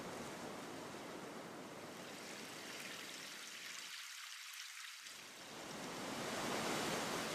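Ocean waves breaking on a wild, windswept coastline, a continuous broad hiss of surf that briefly dips and then swells louder again toward the end.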